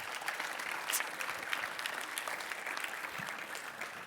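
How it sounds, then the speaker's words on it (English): Steady applause from a conference audience closing a Kubernetes community talk, a dense continuous patter of clapping hands holding even for several seconds without pause. "Big applause once more."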